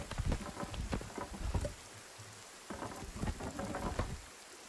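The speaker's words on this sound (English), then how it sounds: "it starts to rain as soon as he removes the flooring roof" Rain falls in the Sons of the Forest video game, a dense hiss of drops hitting surfaces with heavier bursts that come and go, and a low rumble underneath, moderately quiet overall.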